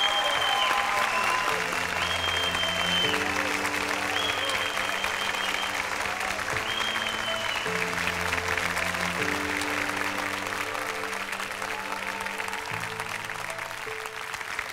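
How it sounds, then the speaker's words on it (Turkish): A studio audience at a televised Turkish folk-song competition final applauds steadily and loudly throughout, with music playing along underneath the continuous clapping. "alkışlarla uğurluyoruz"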